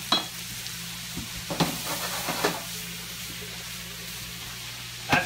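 Battered walleye livers frying in a pan give a steady, even sizzle and hiss, broken by a few soft clicks and scrapes of stirring, close and moderately quiet with no talking.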